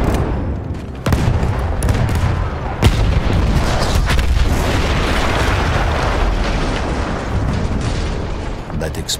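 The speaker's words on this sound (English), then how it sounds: "That explosion was one of the sweetest sights of the war for me." Loud, rumbling explosions and booming blasts roll continuously in the video game Battlefield 1, with sharp bursts punctuating a dense roar of battle noise.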